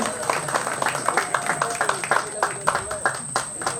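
Audience applauding a dance performance at a Ganesh festival celebration, with a steady patter of many hands clapping through the whole stretch and a faint voice mixed in, fairly close.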